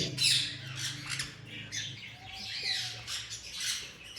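Pet finches in an Islamabad bird shop, with Gouldians and Java sparrows among them, give soft, scattered squawks and chirps that come and go over a few seconds, fairly faint and without speech.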